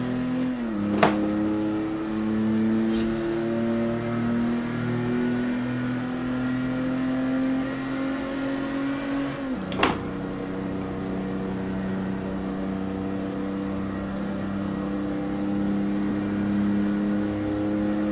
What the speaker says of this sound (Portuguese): Vamos esgoelar o carro.